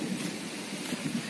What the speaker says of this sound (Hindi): बारिश वारिश हो रही है थोड़ी बहुत